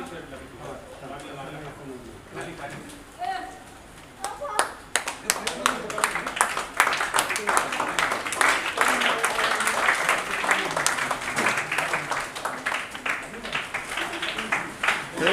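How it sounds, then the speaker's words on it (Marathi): A crowd of school children and guests claps hands together at a birthday celebration for hearing-impaired students. The clapping starts sparse, then swells into steady, dense applause with voices talking throughout. "सगळ्यांनी टाळ्या वाजवा"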